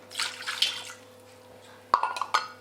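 Water and vinegar poured into an Instant Pot, with a splashy pouring burst early on, a quiet pause, then a second stretch of trickling and light clinks against the metal pot.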